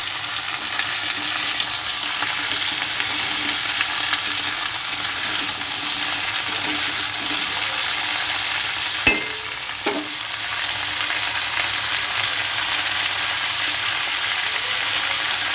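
Prawn heads frying in oil in a pan, a loud continuous sizzle that holds steady throughout, with a couple of brief knocks from stirring around the middle.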